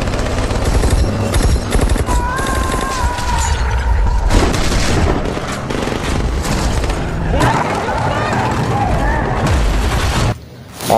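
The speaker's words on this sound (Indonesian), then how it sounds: "mereka sudah dikepung dan terlibat baku tembak" A film gunfight rages with rapid machine gun bursts and scattered shots, loud and dense, mixed with mechanical clatter, impacts and a voice briefly rising above the chaos before it cuts out near the end.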